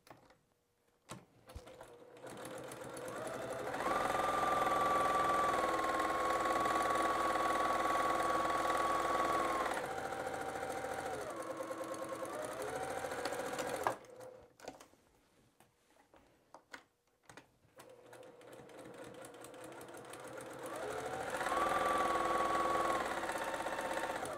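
A sewing machine stitches a fabric composition book cover in bursts: two long runs of steady, close, humming motor and needle chatter separated by a quieter pause with brief handling sounds.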